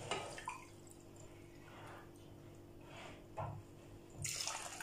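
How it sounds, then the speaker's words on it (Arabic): Water poured in a few short splashes from a tap or cup while making baghrir semolina batter, quiet and close with soft bursts near the start, middle and end and a faint hum underneath. "غادي نحتاج خمسة ديال الكيسان تقريبا ديال الماء"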